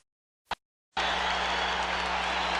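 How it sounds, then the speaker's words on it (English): A boxing crowd at the 1991 Evander Holyfield vs George Foreman heavyweight fight rises to its feet cheering. After a brief silence and a single click, a loud, dense, sustained roar of cheers and applause fills the arena. "The crowd standing on its feet here"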